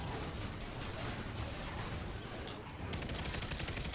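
Dense, continuous gunfire in the Mayday video game rattles on at steady loudness for the full stretch, with rapid overlapping shots and no pauses.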